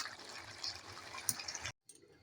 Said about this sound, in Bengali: এবার আমি একটা তরকারিটা ঢেলে নেবো ডিশের মধ্যে